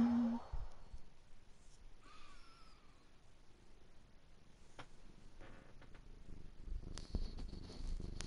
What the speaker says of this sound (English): Purr into the microphone, don't you?